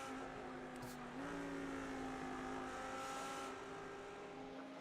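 Race car engine droning in iRacing at Suzuka during a ten-hour special event, a steady faint hum whose pitch steps up slightly as another car comes past, with no talk.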